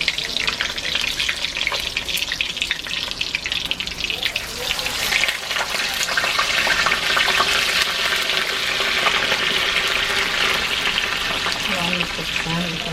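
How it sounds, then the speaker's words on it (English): Bagged American fries sizzle and crackle steadily in a small frying pan, a continuous loud frying hiss with occasional stirring, no talk. "we'll fry those up and then we'll take another peek when they're done"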